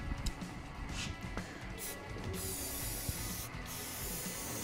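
TensorGrip H40 Koolduct joint adhesive sprayed from an aerosol onto ductwork joints, a steady close hiss that runs almost unbroken, with a few soft handling knocks and no talking.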